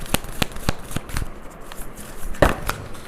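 Tarot cards shuffled by hand before an advice card is drawn, a handful of sharp riffling snaps in quick succession, close and fairly loud, with no voice.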